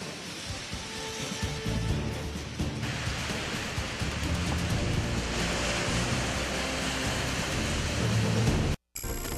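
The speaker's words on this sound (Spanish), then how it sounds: "Una lluvia entre moderada, leve y moderada que cae sobre la ciudad capital" Moderate rain falling over a capital city, a steady dense hiss of heavy patter that runs continuously and fairly loud before cutting off briefly near the end.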